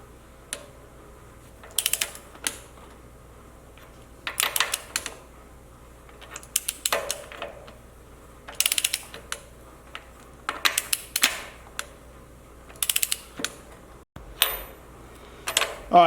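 Ratcheting and clicking of a torque wrench set to 110 while tightening bolts on a Dana 60 axle swap in a 1979 Jeep Cherokee Chief, close and crisp in repeated short bursts separated by pauses, with no talk.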